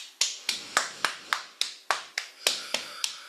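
About a dozen sharp, evenly spaced slaps ring out one after another at a steady pace, hands tapping on the body during a gentle exercise routine, each tap close and crisp with a short decay.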